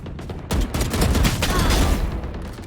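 Rapid automatic gunfire spray in the shooter game Valorant, a dense continuous burst of shots that starts abruptly and runs for about a second and a half before tailing off, loud and close with faint voices around it.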